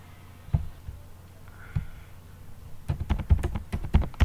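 Code typed on a computer keyboard, starting with a few isolated keystrokes and then building into a quick run of close, crisp clicks.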